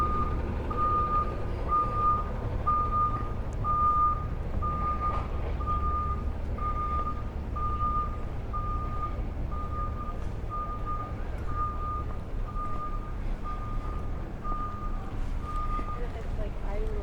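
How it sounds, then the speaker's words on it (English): A garbage truck backs up on a Manhattan Beach street, its reversing alarm beeping steadily at an even pace over low engine rumble and street noise for the full stretch, with no voices. "Little garbage truck backing up."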